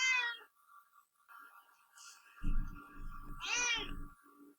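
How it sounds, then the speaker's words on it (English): A house cat meows several times nearby, with short insistent cries spaced apart, between soft rustling and faint background hum. "This cat is too much."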